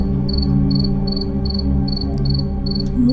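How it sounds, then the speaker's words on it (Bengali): Crickets chirp in regular, evenly spaced bursts, loud and close, over a low steady background hum. "কেবল দূরের পাশ বনে ঝিঝি পোকার ডাক"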